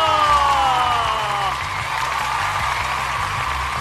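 A studio audience applauds to welcome a guest onto a television science show, a dense steady wash of clapping and cheering close by, with a rising musical sting over it at the start.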